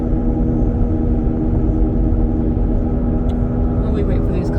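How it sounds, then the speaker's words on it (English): Steady low road rumble from inside a 2006 Pontiac G6 while driving, with a droning hum suspected to be a worn wheel bearing, loud and unbroken, with faint higher ticks near the end. "I think it's just wheel bearing."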